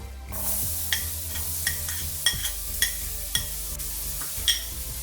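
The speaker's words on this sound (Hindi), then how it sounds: "अभी हम अनियन को हल्का सा गोल्डन होने तक हाई फ्लेम में फ्राई करेंगे।" Chopped onions fry on a high flame with cumin seeds for paneer bhurji, a steady close sizzle broken by sharp spoon scrapes and stirring clinks against the pan at roughly regular intervals, with no talking.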